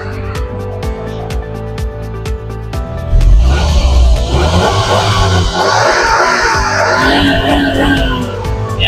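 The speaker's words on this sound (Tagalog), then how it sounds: "Napaka-angas ng kanyang makina. Yung tunog." A Suzuki DA63 4WD mini truck engine, mounted under the seat, idles with a steady low rumble, then revs up and stays loud and rough for several seconds, close by.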